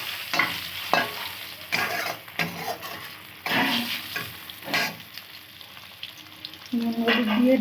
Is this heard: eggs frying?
yes